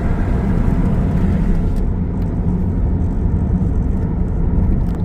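A 27-year-old Toyota Camry with 270,000 miles drones steadily at about half throttle, a loud continuous low engine rumble heard from inside the car.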